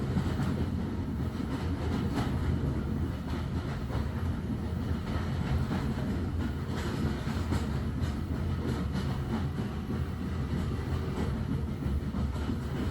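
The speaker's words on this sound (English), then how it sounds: "The puffs and chugs of the steam engine quieten." A steam train rolls along steel rails, a steady, continuous rumble of wheels on track at close range, with no voices over it.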